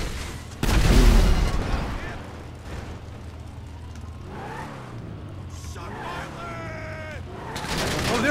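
A missile strike in the video game GTA 5 Online lands as a single loud blast early on, rumbling off into game noise while someone talks over it.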